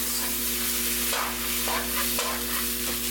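Browned ground turkey is stirred in a pot, with several soft scraping strokes over a continuous hissing sizzle, close but fairly quiet, and nobody speaking.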